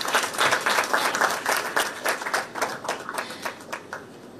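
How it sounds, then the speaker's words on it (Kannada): An audience applauds at the Yuddhakanda Chapter 2 film trailer launch event, a few seconds of close, lively clapping that swells and then thins out toward the end, with no clear speech. "ಚಪ್ಪಾಳೆ ಸದ್ದು ಕೇಳಿಸ್ತೀರಾ? ಆಡಿಯನ್ಸ್"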